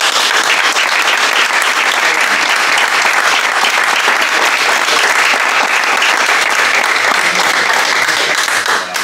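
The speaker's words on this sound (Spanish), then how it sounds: "ha sido una ovación para Genaro de corazón." Dense, sustained ovation from a seated audience at a book presentation for an author, loud continuous clapping that holds steady throughout and tapers slightly at the very end.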